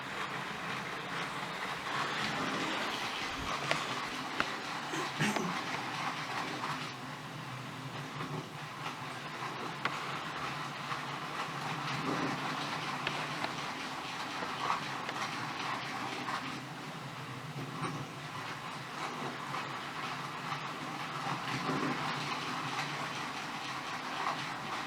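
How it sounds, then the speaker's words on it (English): A Hornby model train pulling its full rake of wagons around a layout track, with a steady continuous rolling rumble and faint clicking at the rail joints, running alone without talk. "That does actually go round with its full train on that."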